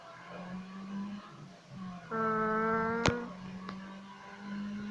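Engine of a car in a Need for Speed racing video game, a steady droning hum that rises into a sustained higher revving whine, punctuated by a sharp click, moderately quiet with no voices.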